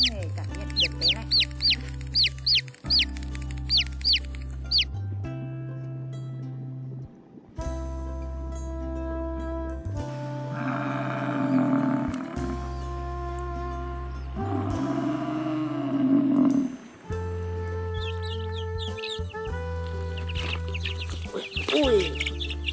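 Chickens cluck and chirp in short bursts over background music during a Vietnamese narration about familiar farm animals, with talk heard through much of the clip.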